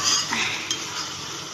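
Ground poppy seed and cumin paste is stirred and fried in a pan, with a low sizzle under clinks and scrapes of a metal spoon against the pot, close up and without speech.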